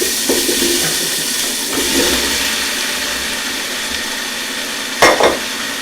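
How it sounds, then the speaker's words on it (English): Butternut squash goes into a pan of cooked onions, giving a steady sizzle with soft scraping and stirring clatter and a brief louder clunk near the end. "I'm putting the squash in."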